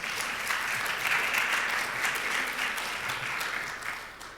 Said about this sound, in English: let's give her a round of applause while I do that